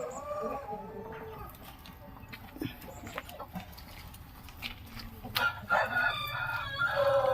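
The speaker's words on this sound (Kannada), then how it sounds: "ಇದು ಬಳ್ಳೆ ಕೋಳಿ" A balle chicken crows and clucks among other fowl, with a louder, drawn-out crow rising near the end over steady farmyard background.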